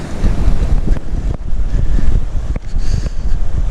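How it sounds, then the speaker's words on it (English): Strong, freezing cold wind buffeting the microphone on the beach at Runswick Bay, a continuous roaring gust with surf-like wash behind it, loud and close, with no voices. "And with that wind, it is absolutely freezing."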